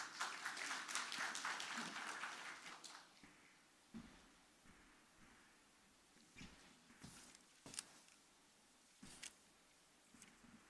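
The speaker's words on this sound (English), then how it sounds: "Let's give her a round of applause" Conference audience at the ID4Africa 2018 identity session applauding: a burst of dense clapping fades within a few seconds, followed by scattered sharp individual claps, fairly faint and distant.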